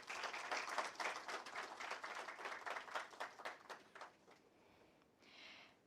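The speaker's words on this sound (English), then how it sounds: "Please give a round of applause for Mr." Audience applause at an HR conclave at IMI New Delhi, a fairly faint, distant round of clapping that holds steady for a few seconds before tapering off and fading toward silence.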